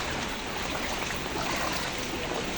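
Floodwater rushes through a flooded street during Typhoon Carina, a steady, close, unbroken roar of flowing water with no voices.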